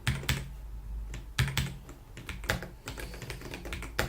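Keys clatter on a computer keyboard during coding work in the VS Code editor, a steady run of close, irregular taps with a few heavier strikes, no voices.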